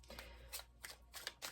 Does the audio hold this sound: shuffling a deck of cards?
yes